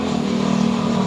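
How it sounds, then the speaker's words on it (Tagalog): A motorcycle engine with a worn chain guide and bore damage runs loudly and steadily at close range, giving a continuous rough mechanical drone and rattle with no speech. "Grabe po yung ingay ng kanyang makina."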